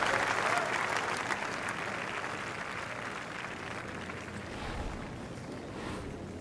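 Crowd in a golf video game cheering and applauding after a birdie, a continuous dense wash of clapping that slowly fades, with faint talk underneath.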